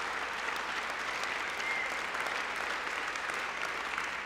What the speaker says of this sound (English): give everyone a round of applause and appreciation for the hard work that you all did